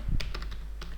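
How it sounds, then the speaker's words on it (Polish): A few quick keystrokes click on a computer keyboard, close and distinct, as a virtual machine name is typed in. "wpisujemy nazwę naszego pierwszego systemu"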